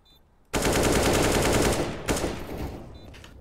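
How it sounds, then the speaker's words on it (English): Rapid automatic gunfire in Counter-Strike: Global Offensive, a loud, close burst of fast repeated shots lasting over a second, then a second shorter volley that trails off. "I knew someone was fucking shooting at me"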